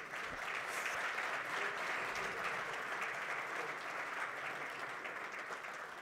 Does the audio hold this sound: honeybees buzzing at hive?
no